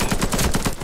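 Rapid automatic gunfire in the online shooter Warface, a steady burst of evenly spaced shots filling the whole moment, loud and close with no talk over it.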